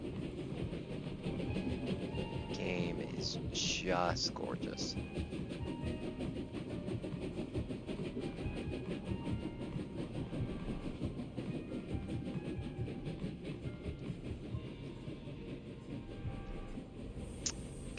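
Train travel in the Clair Obscur video game: a steady rumbling rail ride with a faint rhythmic clatter, carrying on through the whole stretch while a player comments briefly over it.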